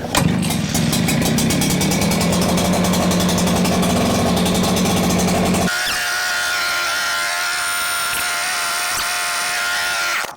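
An Echo PB 9010T backpack blower engine runs loud and steady after starting, a dense, high-pitched mechanical drone that shifts to a different, thinner pitch partway through.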